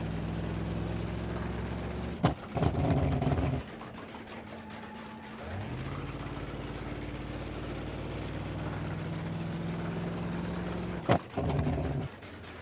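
A ramp truck's engine in BeamNG.drive labors at full throttle, a steady low droning hum that stalls on a long gear, then lifts in pitch after a short break, with brief sharp clunks and rattles around the shifts.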